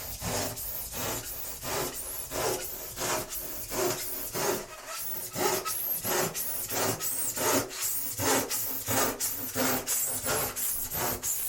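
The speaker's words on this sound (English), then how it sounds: "Then get my saw, and I'll show you how easy it is to cut." Hand saw cutting wood in a cramped wendy house, steady rhythmic back-and-forth rasping strokes, close and fairly loud, about two strokes per second.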